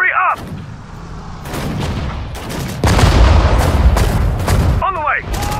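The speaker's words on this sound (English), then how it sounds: "Fire the gun." Artillery guns fire in the wartime strategy game Sudden Strike 4, loud booming blasts and rumbling barrages over a dense battle din, with short game voice lines at the start and end.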